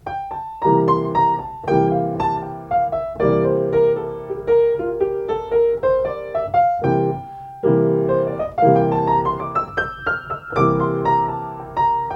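A bright keyboard plays a simple melody running up and down the C Mixolydian scale, major-sounding, over steady repeated chords, clear and alone.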